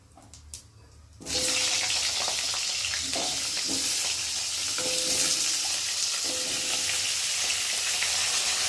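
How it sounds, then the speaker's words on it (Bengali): Cut potatoes drop into hot oil with cumin in a pan and burst into a loud, steady, close sizzle that holds without a break after a brief quieter moment. "এখন এই যে কেটে রাখা আলুগুলোকে দিয়ে ভালো করে ভেজে নেব"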